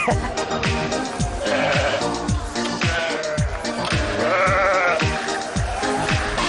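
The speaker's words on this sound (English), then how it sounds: "Look at the baby goat." Baby goats bleat repeatedly at a petting farm, loud and close, amid a busy mix of other background noise and knocking sounds.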